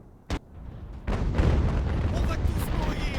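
Cannon fire in an Age of Sail naval battle game: one sharp boom, then a heavier blast that rolls into a sustained, rumbling barrage of artillery, loud and close.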